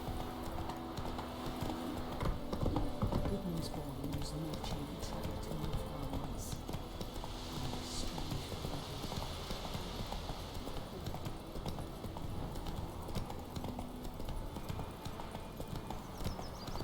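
Hooves clip-clop at a steady gallop as the horse Roach runs in The Witcher 3 video game, a constant rhythmic drumming over ambient game sound, with brief speech.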